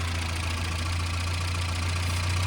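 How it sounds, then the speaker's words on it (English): A Morris Minor engine idles close by with a steady low throb and even, continuous mechanical noise throughout, and nobody talking. "What a sweet little engine."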